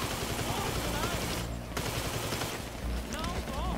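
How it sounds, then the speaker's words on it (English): Sustained minigun fire in the video game GTA 5, a dense, loud, continuous roar of rapid shots running through nearly the whole stretch with only a brief dip, with other game sounds mixed in. "With my favorite gun, minigun."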